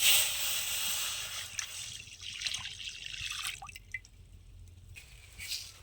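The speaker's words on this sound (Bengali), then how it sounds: "এই যে দুধটা এবার দিয়ে দেবো গরম করে নেবো ভালো করে" Goat milk trickles and drips as it is poured into a pan for heating, a soft, close liquid splashing that runs steadily for several seconds.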